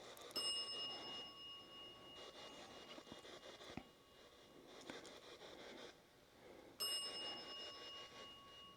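A small bell rings during a ghost hunt at a haunted clown motel in Tonopah, Nevada. Two bright strikes ring out with lingering tones, separated by quiet scraping and rustling, and no one speaks.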